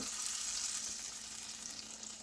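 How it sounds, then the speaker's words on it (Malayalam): Cashews and raisins fried in ghee drop into banana-ball payasam and get stirred, giving a steady close sizzle with soft scraping underneath and no voices. "നട്ട്സ് ഇട്ട് കൊടുത്തൊന്ന് ഇളക്കി കൊടുക്കാം"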